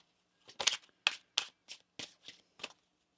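Tarot cards are riffled and tapped in a series of quick, crisp bursts, close and fairly quiet, with short pauses between them.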